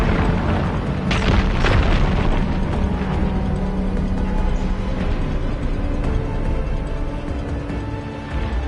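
A fire gleam blown apart in Horizon Forbidden West, a deep rumbling boom with a sharp burst near the start, then a long, dense roar of debris and fire that stays loud throughout.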